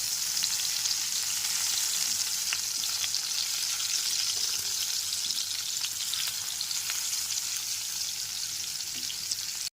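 Potato pieces coated in salt and turmeric fry in a pan over low to medium flame, a dense continuous close sizzle holding steady throughout with faint occasional crackles and no voices.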